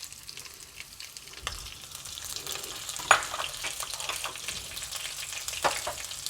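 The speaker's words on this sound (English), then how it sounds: "Now the first step is to fry the dry coconut with the onions." Dry coconut and sliced onions fry together in a pan, making a busy crackling sizzle with irregular spatters and stirring clicks, close and fairly loud, with no speech.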